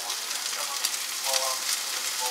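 Brussels sprouts, cauliflower and carrots searing in hot oil give a steady, soft, fine-grained sizzle with faint crackles, fairly quiet and close, with no voices.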